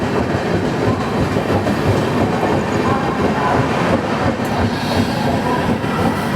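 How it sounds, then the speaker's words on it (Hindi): The Gandhidham Puri Express pulls out of platform 4 at Anand Junction with a loud, continuous rumble of rolling coaches, wheels clacking over rail joints and occasional faint squeals, close and sustained throughout. "आनंद जंक्शन के प्लेटफॉर्म नंबर 4 पे खड़ी है गांधीधाम पुरी एक्सप्रेस। खड़ी क्या डिपार्ट हो रही है।"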